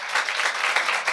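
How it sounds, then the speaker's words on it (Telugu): A congregation at a Sunday church service claps loudly and steadily for about a second, a dense, continuous burst of many hands with no voices over it. "ఇష్టం ఉన్నవారు గట్టిగా చప్పట్లు కొట్టండి ఒకసారి"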